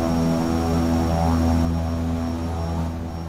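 Steady drone of an EMB-110P1 twin-propeller airplane in flight in the X-Plane simulator, an even tonal engine hum with propeller buzz, loud and constant, easing slightly toward the end, with no voices.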